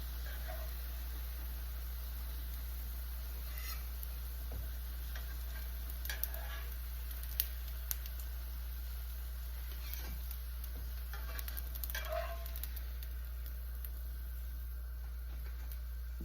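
Potato pancakes cook in a frying pan with a faint, soft sizzle and a few small ticks and clinks, set against a steady low electrical hum.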